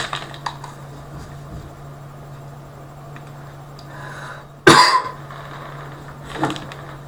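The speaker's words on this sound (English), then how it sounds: "You'll have to excuse me when I'm coughing" A single sharp cough bursts out close by in a quiet room, followed by a softer second cough a moment later, with a low steady hum beneath.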